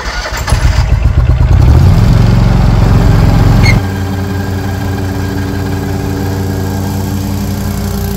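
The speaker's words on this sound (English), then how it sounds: "the big difference that it makes with the suction mower" A suction mower runs over a lawn during dethatching and short cutting, its engine surging loudly at first and then settling into a steady, lower, continuous drone nearby.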